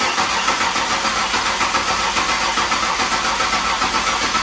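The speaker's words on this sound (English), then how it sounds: "let's crank this engine over and get it primed" Car engine cranking over to build oil pressure after a fresh aluminum radiator install, a steady, loud starter whir that churns evenly and never catches, filling the whole stretch without a break.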